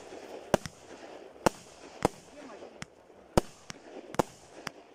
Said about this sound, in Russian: Салют смотреть? Салют! Салют.